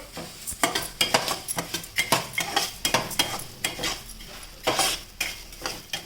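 Coriander seeds and urad dal roasting in a pan, with a steady dry rattle, scraping stirs and clinks of a spoon against metal throughout.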